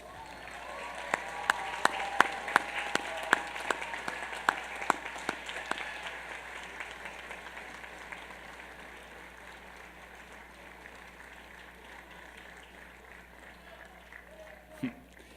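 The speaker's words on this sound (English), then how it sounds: "join me in thanking them with your applause" Graduates at the 2014 Union College commencement applaud their families and friends, a crowd's clapping strongest early then thinning to a softer patter, with a few sharp isolated claps standing out near the start.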